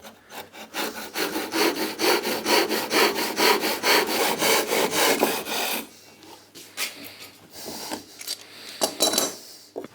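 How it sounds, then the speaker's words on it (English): Hand saw cutting wood for a folding camping table, the workpiece clamped in place: steady rhythmic back-and-forth strokes for about six seconds, close and loud, then quieter scattered scraping and handling sounds. "Take our saw, find a blade again."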